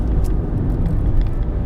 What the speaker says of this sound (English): have you heard the noise of the engine? It's so quiet.